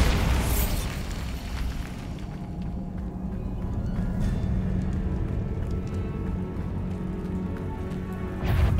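Bombarda spell explosion in Hogwarts Legacy, a sharp blast at the start followed by a long rumbling, crackling decay, with another burst near the end.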